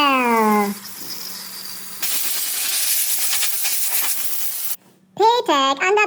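Brake Cleaner Pro aerosol sprays onto a Mercedes rear differential in a loud, steady hiss lasting a few seconds. Voices talk just before and after it.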